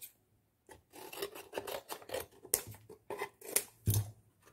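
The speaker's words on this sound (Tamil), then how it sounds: "இதை நம்ம கட் பண்ணி எடுத்துக்கலாம்." Scissors cutting through a cardboard box, heard as a series of close, rasping snips and scraping strokes in an uneven rhythm, with no talk over them.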